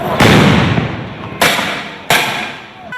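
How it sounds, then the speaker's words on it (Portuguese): Gunshots and bomb blasts ring out at a street protest by university staff and students on an avenue, three sharp loud bangs in about three seconds, each with a long booming decay, no talk over them. "onde teve mais tiros e bombas"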